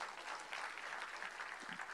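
Audience claps for award-winning artists at a Tamil arts ceremony, an even, fairly faint patter of applause that continues without a break.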